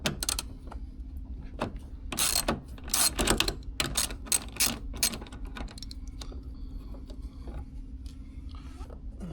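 A ratchet with a 14mm socket clicks through a trim bolt on a 2002-07 Subaru WRX/STi, with quick bursts of close, sharp ratcheting and pauses between strokes.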